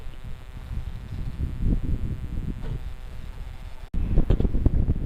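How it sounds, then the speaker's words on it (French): Wind blowing at sea aboard a sailboat near Sal in Cape Verde, around 9 to 14 knots: a steady low rumble of gusts buffeting the microphone, with a brief dropout then louder buffeting, no voices. "le vent il oscille entre 9 et 14 nœuds"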